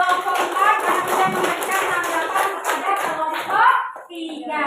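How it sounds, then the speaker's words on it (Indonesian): A classroom group claps for a student group after its response, giving quick, close, uneven hand claps with voices mixed in. "Tepuk tangan untuk kelompok 4 yang sudah memberikan tanggapan kepada kelompok 3"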